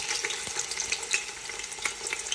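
Pre-caramelised onion going into a hot pan for a lentil stew with pumpkin and dill gives a close, steady crackling sizzle, with sharper spits and pops scattered through it and no voices.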